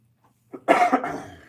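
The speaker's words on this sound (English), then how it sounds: "I got the coughs today, guys." A few harsh, chesty coughs in quick succession, close up, fading off afterward.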